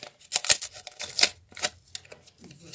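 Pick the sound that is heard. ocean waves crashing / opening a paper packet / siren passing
opening a paper packet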